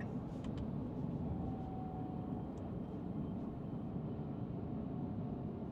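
Tesla Cybertruck driving, a steady low road rumble and tire hum at constant level with faint electric whine, no voices, continuous throughout.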